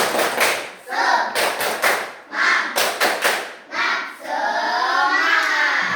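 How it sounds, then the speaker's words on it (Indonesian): A group of children claps out a rhythmic spirit cheer, several quick bursts of hand claps in sets, then a lull with a murmur of young voices as the clapping gives way. "Yuk kita tepuk semangat dulu yuk"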